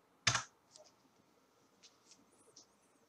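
A single loud keystroke, like the Enter key, hits a computer keyboard near the start, followed by a few faint, scattered key taps over the next few seconds in a quiet room.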